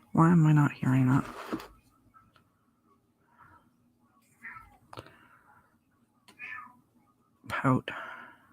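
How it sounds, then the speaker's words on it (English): A cat meows loudly at close range, followed by softer chirps and a couple of short meows, with quiet gaps and brief noises between them. "Friggin' cat."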